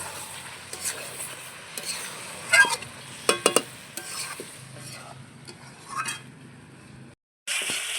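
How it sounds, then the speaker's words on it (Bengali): Mutton being sautéed to a deep red in a pan for a spicy kosha, with whole garlic cloves added: a low sizzle under repeated scraping stirs and sharp clinks of the utensil against the pan, the sound cutting out briefly near the end. "মাংসটা আমার কষানো হয়ে গেছে"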